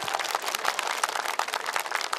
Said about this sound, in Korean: 우리 양일상 씨 박수.